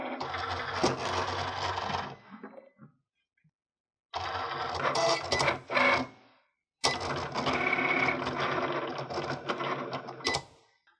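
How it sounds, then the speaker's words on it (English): A Cricut cutting machine drives a fine point blade through vinyl on a mat, giving a steady whirring, clicking mechanical run in three bursts separated by short silent pauses. "Go ahead and insert your mat into your Cricut machine. Your vinyl should be cut using your fine point blade."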